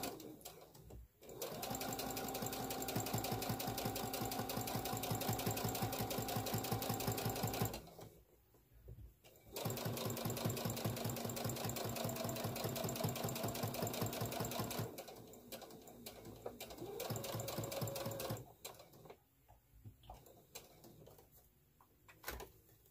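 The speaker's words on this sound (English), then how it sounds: "And I'm back stitching when I start." A sewing machine stitches a basic notebook cover, running in loud, steady bursts of rapid needle clatter close by, with brief pauses between runs and a softer stretch at the end.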